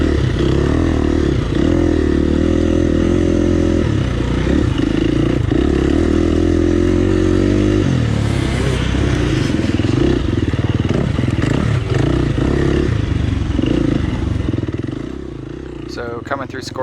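Dirt bike engine lugging in first gear with little clutch during a 35+ class AMA District 14 hare scramble race, a loud steady low rumble with clatter and scraping throughout, easing near the end.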